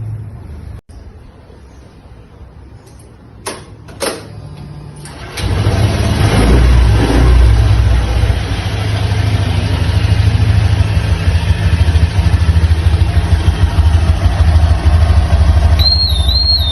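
A motorcycle engine starts and runs at a steady idle, loud and continuous, while its exhaust gas is checked with a Riken Keiki GX-2009 gas detector; a faint high whistle-like tone surfaces near the end.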